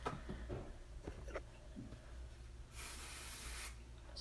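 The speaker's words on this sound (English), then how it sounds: "Spray right there where the teasing is, then kind of lightly comb it over." Hairspray hisses from an aerosol can onto teased hair in a short steady burst of about a second, following soft handling and combing noises, quiet and close.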